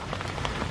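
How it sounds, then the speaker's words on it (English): Rain falling onto the water of a carp fishery lake in summer, a dense steady patter of drops close by with no voices. "the rain is definitely coming in"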